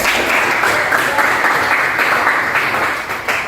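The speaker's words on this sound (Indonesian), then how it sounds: "give applause for all of you" A classroom audience bursts into loud, sustained applause, a dense wash of many hands clapping steadily for several seconds before easing slightly at the end.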